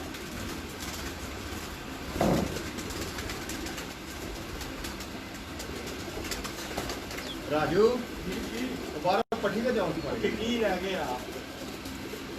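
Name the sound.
pigeons cooing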